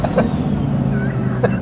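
A 1100hp twin-turbo Lamborghini Huracan drives past close by, its engine note rising and shifting briefly through the gears, loud with no talking.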